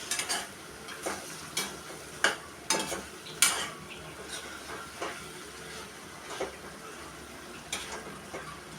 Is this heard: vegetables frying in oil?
yes